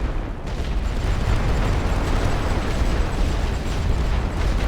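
An artillery barrage fires in The Great War: Western Front, producing a dense, continuous rumble of booms and blasts that stays loud throughout.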